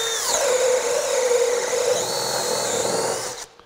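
A Craftsman V20 brushless 1/2-inch hammer drill runs on a 4Ah battery, a steady high-pitched motor whine with a slight pitch dip partway, close and loud, then cutting off abruptly at the end.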